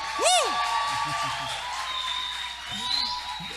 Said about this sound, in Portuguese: mais uma salva de palmas para o nosso Senhor